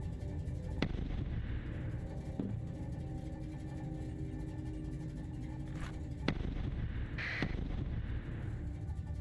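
Mortar rounds go off in the space station game Space Station 14 on the Hullrot server, a few sharp separate cracks spaced seconds apart over a steady low background hum.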